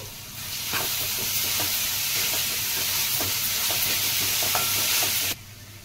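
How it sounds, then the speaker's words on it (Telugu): Freshly pounded ginger-garlic paste sizzles and fries in a pan for a raw banana masala curry, a steady loud hiss with occasional stirring scrapes, alone, before cutting off abruptly near the end. "మనం ఫ్రెష్గా దంచిన అల్లం వెల్లుల్లి పేస్ట్, ఇది పచ్చివాసన పోయే వరకు వేయించుకోవాలి."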